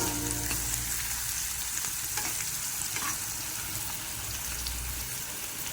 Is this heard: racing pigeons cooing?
no